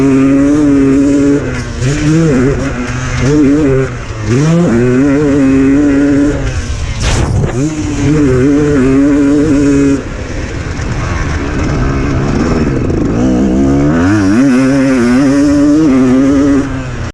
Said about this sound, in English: Bike number 13 is the 1990 RM250.